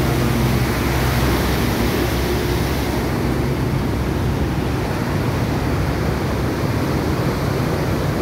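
Water rushes out from beneath a bridge in a steady, loud broadband roar, like a strong outflow or small waterfall, continuous and close for the full length with no voices.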